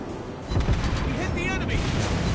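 Warship guns firing in the naval game World of Warships Blitz aboard the Smaland: a deep, rumbling boom of a salvo that swells and rolls on in a heavy, continuous roar.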